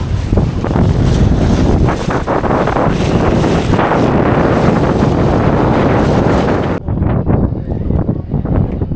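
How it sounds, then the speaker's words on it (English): Strong 20-knot wind buffets the microphone in a loud, continuous roar, with water and sounds of a sailboat at anchor off Datça beneath; the gusting eases slightly near the end. "There's 20 knots of wind now, so it is good to be at anchor."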